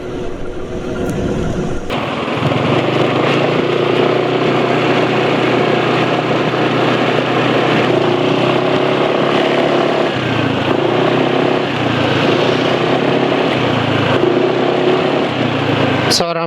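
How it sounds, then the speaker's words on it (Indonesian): Motorcycle engine on Petronas Synthium 800 10W40 synthetic oil, running somewhat rough, holds a loud, steady drone for about fourteen seconds after a brief quieter start, with no talk over it. "Suara mesin sudah mulai cukup kasar ya, tapi masih ada efek aditifnya, jadi kasarnya nggak kasar banget."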